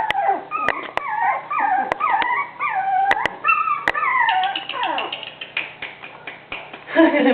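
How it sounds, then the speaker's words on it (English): Young puppies playing and whimpering, a run of high, falling whines and yips close by, mixed with occasional sharp clicks and a few voices in the background. "That's Linda's puppy in front there"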